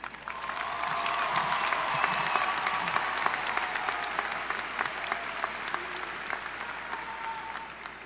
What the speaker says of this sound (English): Please join me in applauding these individuals in the audience today.